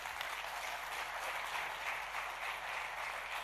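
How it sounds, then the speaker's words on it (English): Steady applause from a large conference audience, dense and sustained clapping throughout without pause. "Let's give a round of applause for Stefano"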